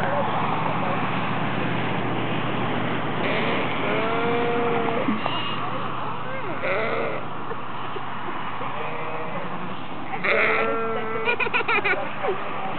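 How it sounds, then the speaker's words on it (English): Several sheep and lambs bleat at intervals, some near and some farther off, over a steady outdoor hum with occasional voices. "Here's a whole bunch of babies."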